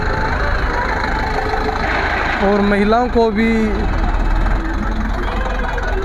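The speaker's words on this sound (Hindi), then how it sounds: "महिलाएं खुद भी ट्रैक्टर चला रही हैं" Tractor engines idle and rumble steadily during a farmers' tractor tricolour rally rehearsal in Uchana, a loud, close, continuous drone under a man's speech.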